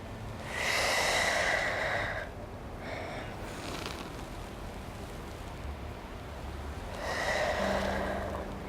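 Deep, audible breaths during seated chair yoga: a long noisy inhale or exhale, a softer breath, then another strong breath cycle, close and unhurried against quiet room noise.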